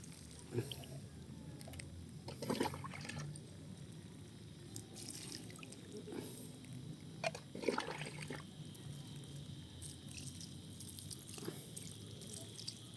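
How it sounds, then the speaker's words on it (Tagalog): Water poured in short splashes and trickles onto seedlings' soil and leaves, with drips between pours, fairly quiet and close. "buhos lang natin dyan yung tubig"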